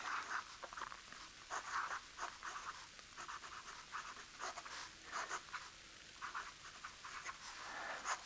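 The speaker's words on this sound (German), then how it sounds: "Ich schreibe mit dem Aero." An Aero fountain pen with a steel B nib writes on paper, making close, quiet scratching strokes in a continuous irregular rhythm. No one speaks.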